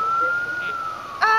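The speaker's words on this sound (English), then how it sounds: "that's the first time I ever heard the ambulance in my life" A passing ambulance siren holds one steady, near-constant tone that swells louder and brightens sharply near the end, with no talk over it.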